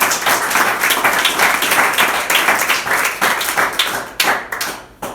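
A church congregation applauds in praise of Jesus, dense rhythmic clapping from many hands filling the room steadily for several seconds before thinning out toward the end.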